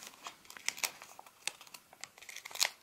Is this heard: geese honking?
no